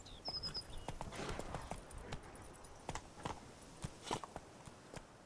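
Hooves of Roach, the horse in the game The Witcher 3: Wild Hunt, clatter in a quick steady gallop, a rapid run of sharp hoofbeats over a busy background, fairly close but not loud.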